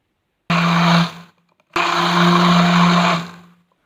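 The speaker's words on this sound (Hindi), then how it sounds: "अब इसको ब्लेंड कर लेंगे।" An electric blender whirs through a mango milkshake with milk in two loud bursts, a short half-second run, a brief pause, then a longer steady spin of about a second and a half, close by.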